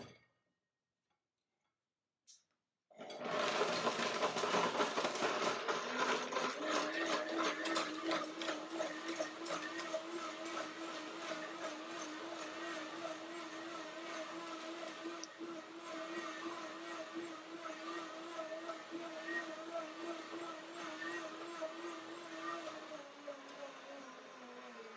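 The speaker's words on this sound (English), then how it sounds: "Then they will soak it for a minute, and then I do a second blending." A blender whirs steadily at high speed for a long stretch after a brief silence, blending cashews and dates, its motor tone holding loud and even with a rattling texture.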